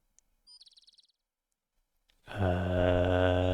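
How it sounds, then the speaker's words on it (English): Game ambience from Quest for Glory 4: a short bright bird chirp trill rises briefly and softly near the start, then a loud sustained tonal music or ambient drone fills the rest without speech. "there's a nice little bird chirping in the background."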